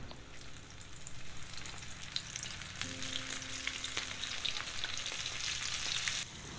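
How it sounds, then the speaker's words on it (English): Flour-coated shrimps, fried without egg, crackle and sizzle in hot oil, a continuous close hiss with fine popping that runs throughout, no talk. "we are gonna try to fry the shrimps without the egg"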